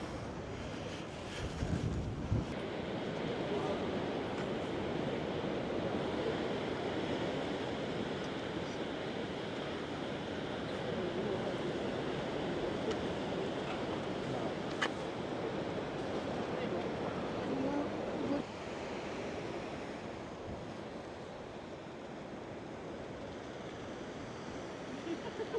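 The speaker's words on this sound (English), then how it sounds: "Waves crashing against those rocks." Ocean surf breaking against rocks at a coastal marine sanctuary along the Great Ocean Road, a continuous wash of crashing water with wind buffeting the microphone and a brief thump early on.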